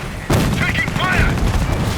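Dense battlefield gunfire in Company of Heroes, a sudden loud burst of rifle and machine-gun shots that keeps crackling on, with shouted voices mixed in.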